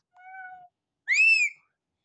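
A cat meows twice: a short, low, steady call, then after a brief pause a louder, higher, rising and falling meow, close by with no talking.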